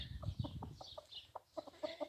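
Chickens cluck close by on a farm where geese and ducks are also kept, a run of short, repeated clucks and soft calls at moderate to low volume with no talk.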